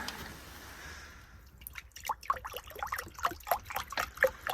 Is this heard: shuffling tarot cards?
no